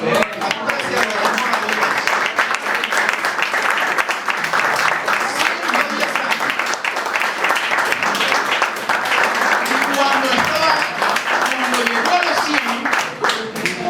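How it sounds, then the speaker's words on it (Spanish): A church congregation claps steadily during a sermon, a dense, even wash of applause lasting about fourteen seconds, with a voice faintly present beneath it. "Aplauda al Señor si quiere aplaudir."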